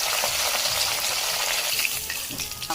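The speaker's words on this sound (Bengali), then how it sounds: "মাছে লবণ হলুদ মেখে ভালো করে ভেজে নেব।" Hilsa fish rubbed with salt and turmeric fries in hot oil, a steady close, loud broadband sizzle running throughout with a few brief stirring clatters near the end.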